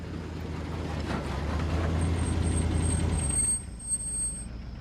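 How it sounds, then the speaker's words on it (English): A truck arrives with a steady low engine rumble that builds and holds for several seconds, then cuts off with an air-brake hiss and a faint high squeal near the end. "Just then, a truck arrives."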